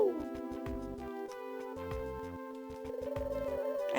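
Doves coo in the video game Mother 3, a soft, repeating tonal call that blends with a gentle, steady musical backdrop.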